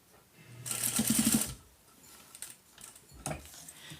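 A sewing machine runs a quick burst of tacking stitch across a fabric bag, a loud rapid whirring rattle followed by softer clicks and handling noises.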